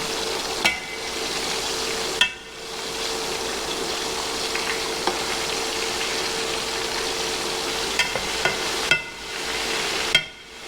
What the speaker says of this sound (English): Fry them for about 2 to 3 minutes.